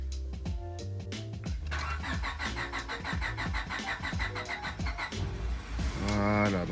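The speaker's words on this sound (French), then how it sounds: "je vais le démarrer pour la première fois de la journée." A cold car engine on 100% ethanol fuel cranks with a rhythmic whirring starter, then catches and runs unevenly, close and moderately loud.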